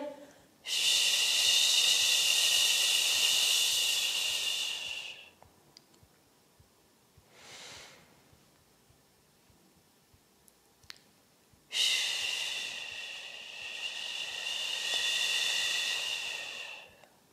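Deep breathing during a qi gong exercise: two long, loud, airy breaths close to the microphone with a quiet gap between them and a faint soft breath in the middle.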